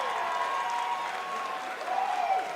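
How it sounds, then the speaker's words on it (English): Sustained crowd applause and cheering for two fighters after a bout, a dense wash of clapping from a large audience at moderate distance, swelling slightly toward the end. "let's give both of these fighters a big round of applause"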